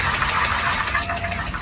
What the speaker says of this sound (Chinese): 发动机敲缸异响